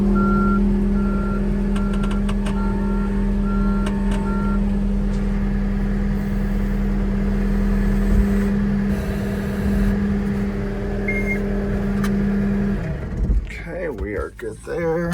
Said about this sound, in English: Okay, so skid steer is good. Let me get this parked out of the way.